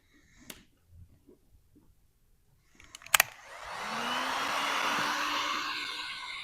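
Heat gun blowing hot air over vinyl wrap on an Audi S5 fender, a steady broadband whoosh starting about halfway through after a few soft taps and a sharp click.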